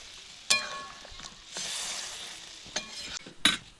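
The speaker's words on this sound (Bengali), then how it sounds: "এবার মশলা কষার জন্য দিয়ে দিচ্ছি জল। মশলাটা কষে নেব, একটু জল দিয়ে দিলাম।" Spices being sautéed and stirred with a splash of water in a pan for a Bengali fish chorchori, giving soft sizzling and a few sharp scraping stirs, close and fairly quiet with no talk.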